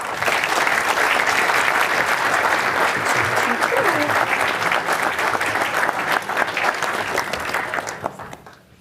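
Steady, dense applause from a summit audience fills the hall as one panel leaves and the next comes on, holding loud and even for about eight seconds before fading near the end.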